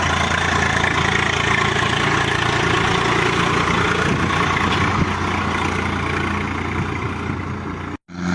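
A tractor engine idles steadily, a constant low throbbing hum for several seconds before cutting out briefly near the end.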